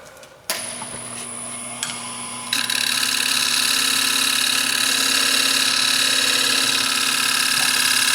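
A wood lathe spins steadily, then a turning gouge bites into the spinning wood about halfway through, adding a bright, sustained hissing cut that continues to the end.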